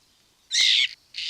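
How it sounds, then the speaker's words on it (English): A bird gives sharp, high-pitched alarm calls, two loud piercing bursts close by, the first held for about a third of a second and the second cut short. "the sweet song of birds can suddenly turn into a high-pitched alarm"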